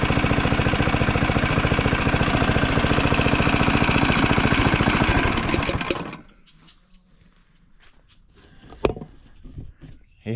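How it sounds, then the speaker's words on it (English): Small Kubota diesel engine running loud and close with a fast, steady knocking clatter, then cutting off abruptly, leaving quiet with a few faint clanks and bumps. "Now we got a nice little Kubota diesel right here."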